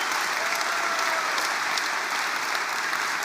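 Large crowd clapping in support of Pierre Poilievre's speech, a loud, thick wall of applause that stays constant throughout, with no speech over it.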